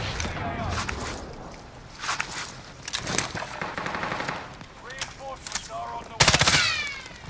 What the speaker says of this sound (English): Yeah, I'm getting shot from the back.